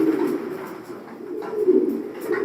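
A female imported racer pigeon coos softly nearby, with low throaty burbling notes that rise and fall over a quiet background.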